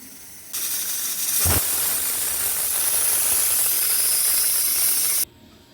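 A pressure cooker with mutton inside lets out a loud, continuous steam hiss. The hiss starts abruptly, holds steady for about five seconds with one brief clunk early on, then stops sharply.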